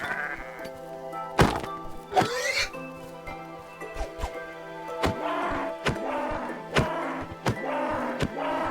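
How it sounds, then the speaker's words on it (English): Combat sounds from a Minecraft mod during a fight with Herobrine: a loud sheep-like bleat, followed by a rapid series of sharp thunks and hits that recur in an irregular rhythm over a steady, faint tonal backdrop. "Let's go attack Herobrine for the one last time. See, it adds different noises"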